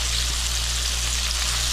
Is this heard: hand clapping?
no